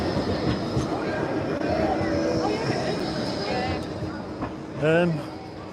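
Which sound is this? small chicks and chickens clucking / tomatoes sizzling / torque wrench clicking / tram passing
tram passing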